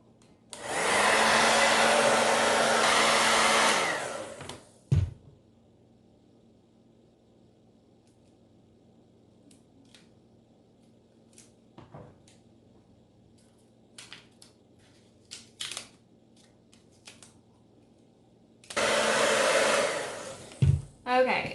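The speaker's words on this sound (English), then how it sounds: "So I'm gonna go ahead and blow dry it" A hair dryer blows loudly and steadily for several seconds while drying paint on a stencilled farmhouse clock, cuts off, then returns near the end after a quiet stretch of small handling noises.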